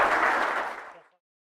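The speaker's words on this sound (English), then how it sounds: "Round of applause" A live audience bursts into applause for business owners Ben and Emma Stallworthy, a dense wash of many hands clapping at once that fades steadily to silence within about a second.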